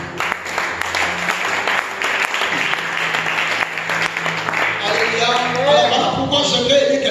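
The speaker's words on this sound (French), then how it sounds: "Acclame ça." Church congregation applauding loudly and steadily at a pastor's call during a French-language service, dense continuous clapping throughout with voices and cheering mixed in, rising toward the end.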